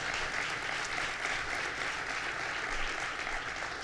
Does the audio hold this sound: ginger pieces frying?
no